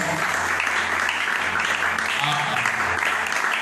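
A church congregation claps and cheers in acclamation, a steady, loud wash of applause that fills the whole short stretch with no break.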